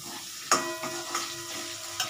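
Onion and garlic sizzling steadily in a hot pan, punctuated by a few sharp scraping stirs of a spatula, close up.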